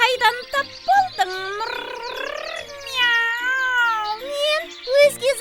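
Drawn-out, rising and falling meows come in a run of several calls, close and clear, with brief voices at the start and end.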